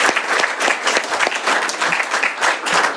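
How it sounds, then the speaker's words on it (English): Loud, close applause from a meeting audience for a speaker, dense continuous clapping with a steady rhythm and no talk. "Let's give Dr. Alan Berger another round of applause."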